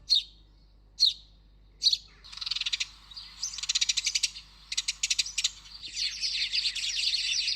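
A group of house sparrows gives quick, high chirps, starting with a few spaced single calls and then breaking into dense, overlapping chattering bursts. It is moderately loud and close, with no talking.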